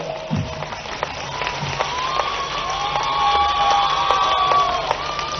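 A large crowd at a mass wedding ceremony in the village of Budhi Barlai applauds and cheers. Loud whistles and shouts rise over a steady wash of clapping that holds through the whole clip.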